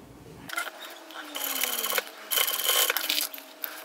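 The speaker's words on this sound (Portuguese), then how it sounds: "vou passar uma costura bem na beiradinha" An electric sewing machine runs close by in quick stuttering bursts while stitching along the edge of fabric for a child's round waist bag, a buzzing whir that starts and stops several times.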